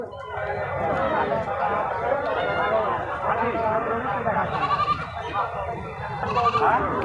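At a goat market, several goats bleat, some close and some farther off, under continuous loud crowd chatter as people talk and haggle nearby.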